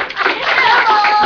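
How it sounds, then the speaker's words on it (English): A group of kids in a classroom gives a brief, close round of clapping, with children's voices mixed into the quick burst of applause. "Wow, round of applause."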